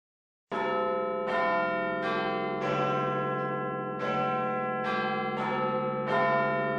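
A church bell rings after a moment of silence, with six or seven loud, resonant strikes spaced about a second or more apart. Each strike's sustained tone hangs and overlaps the next, and there are no voices.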